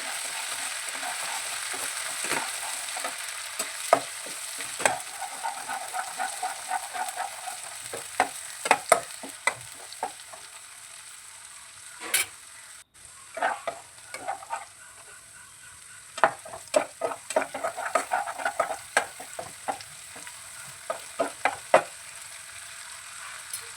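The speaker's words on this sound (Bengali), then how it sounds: "আদা রসুনের পেস্টটা ভালো করে নাড়াচাড়া করবো।" Ginger garlic paste sizzles and fries in a pan with a continuous hiss while a utensil stirs and scrapes it in frequent irregular clicks, close and clear, with no talk.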